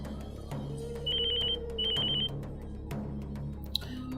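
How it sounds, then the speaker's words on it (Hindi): A telephone rings in two short bursts of rapid electronic trills, fairly faint, over a low steady background hum with a few soft clicks, and no one speaks. "तुम्हारी बीवी फोन पर फोन कर रही है।"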